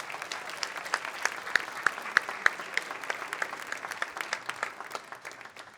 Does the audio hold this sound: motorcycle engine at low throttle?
no